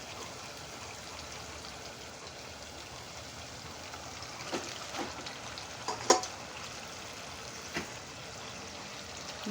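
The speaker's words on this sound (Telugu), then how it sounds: "ఆ చికెన్ ఏమో మసాలాలో వేసేద్దాం" Raw chicken, washed in salt water, is tipped into masala in a pan for a chicken tomato curry, giving a low, steady sizzle and frying hiss with a few soft stirring clatters, close and alone without talk.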